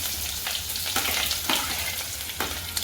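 Sliced onions sizzle and fry in hot oil for a fish curry, a steady close crackle with occasional stirring scrapes, no voices.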